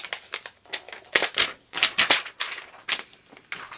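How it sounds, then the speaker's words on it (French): Paper wrapping peeled and crinkled off a Disney Villains makeup palette, a run of close, crisp rustling and tearing bursts with brief pauses, no talking. "Je vais enlever le papier."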